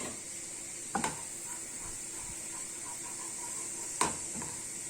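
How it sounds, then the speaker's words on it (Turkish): Dried mint sizzles softly in melted butter in a pan. A faint, steady hiss runs throughout, broken by two sharp clicks of the spoon against the pan as it is stirred. "Eriyen tereyağımız içerisine bir tutam kuru nane atıyoruz."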